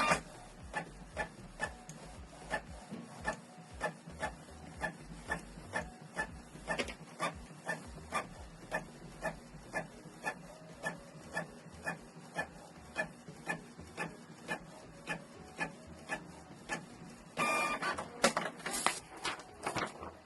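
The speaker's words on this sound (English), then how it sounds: "So it's printing the test page to confirm the connection." A Canon PIXMA G650 inkjet printer prints a test page with a steady train of soft, evenly spaced mechanical ticks and clicks, then a short louder rustling burst near the end.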